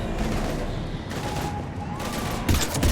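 Dense gunfire in the Mass Effect 3 video game, a rapid continuous volley of shots with a harsh burst near the end, loud and close under the battle noise.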